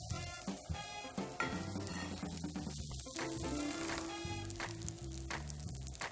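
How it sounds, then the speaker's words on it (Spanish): Rice frying and sizzling in a pan, a steady crackling hiss with stirring scrapes and clatter throughout, close and fairly loud, no talking. "necesito que esto se escuche, que se está friendo el arroz"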